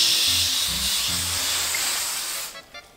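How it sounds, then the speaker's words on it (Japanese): An aerosol can of hair spray used for hair styling gives a long, close, steady hiss that fades out near the end, with a few low tonal sounds underneath. "でもあとはスプレー"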